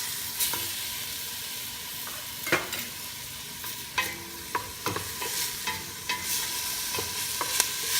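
Chorizo de Bilbao frying in a pan for pork pochero, a steady close sizzle broken by a scatter of sharp scraping clicks as it is stirred, with no voices.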